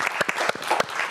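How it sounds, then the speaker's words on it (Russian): Audience clapping for a jazz band at a Gomel evening music broadcast, a dense burst of many hands with sharp individual claps standing out, close and steady with no talk. "Давайте их поприветствуем аплодисментами"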